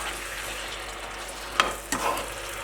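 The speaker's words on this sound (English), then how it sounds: "I'm stirring this very lightly because, like I said, it ackee in a can is really soft." Canned ackee being stirred very gently in a pan for Jamaican ackee and saltfish, a steady soft frying sizzle broken by two brief spoon scrapes near the end.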